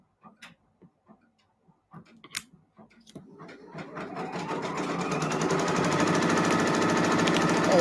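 A pressing machine starts up with a few scattered knocks and clicks, then settles into a steady, rising mechanical whir and rapid rhythmic clatter that grows louder and holds, close by with no talk.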